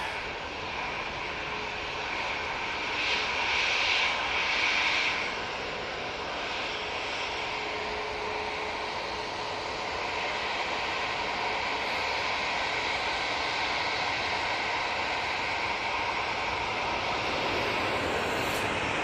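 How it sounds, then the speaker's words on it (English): An Etihad Boeing 737 MAX 8 starts its takeoff roll at Manchester Airport, giving a steady, loud broadband jet roar that holds for the whole stretch with a brief swell early on and no voices. "737 MAX 8 now on the roll."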